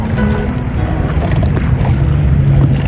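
Water sloshing and splashing around a small rowed dinghy with oars off Sicily, mixed with gusty wind buffeting the microphone, continuous and close.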